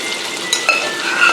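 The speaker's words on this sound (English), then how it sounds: "We're going to let it simmer for a little bit on our nice oil and butter." Tilapia simmering in oil and butter in a pan gives a steady, close sizzle with a few light clinks of a utensil against the pan over its short length.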